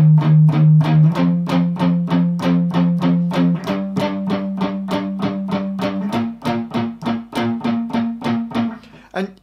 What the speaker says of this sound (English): so it's playing a power chord. So that line sounds like this.